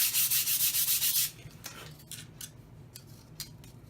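Sandpaper rubbing the inside of a carbon rod canopy for a Vortex 3 build: a quick run of close, loud rasping strokes, then fainter, scattered scrapes and taps.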